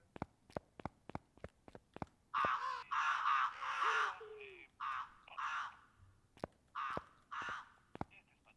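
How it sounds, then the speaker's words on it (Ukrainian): Crows cawing in the horror video game The Exit Project: several harsh, rasping caws in quick bursts, loud and close, set among sharp periodic clicks and footstep-like ticks. "Так, ворони вперше."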